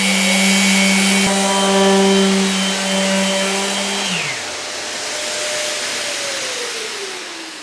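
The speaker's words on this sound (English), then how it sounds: "I'm putting on some 180 grit onto the RTS 400, and I'm going to give it a little bit of a sand" A Festool RTS 400 compact sander fitted with 180 grit runs on maple veneer with a steady, loud whirring motor tone, then spins down about halfway through while a fainter hum lingers.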